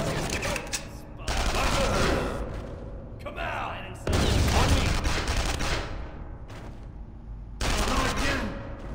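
SMG fire in Counter Spy, long sustained rattling bursts broken by brief pauses, loud and close and dominating throughout.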